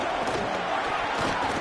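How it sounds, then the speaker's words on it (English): Dense stadium crowd roaring at a UCLA football game, a loud continuous wash of noise with no breaks. "Listen to this crowd just shaking the girders of this place"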